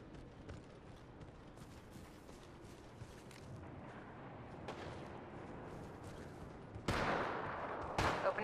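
Gunfire in the video game Apex Legends sounds as a sparse, distant crackle under a constant rumbling bed of game noise, then two sharp, louder bursts land near the end.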